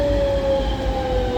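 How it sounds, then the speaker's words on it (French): Lille metro train in the evening, a steady loud rumble with a sustained high electric whine running throughout, heard close up with no talk. "je vous laisse profiter un peu de l'ambiance de Lille le soir avec son fameux métro"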